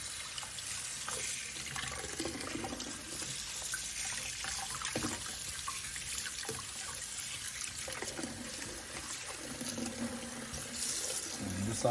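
Running tap water pours steadily as a raw octopus is rinsed clean of salt and ink in a sink, a continuous close splashing trickle with faint handling sounds under it.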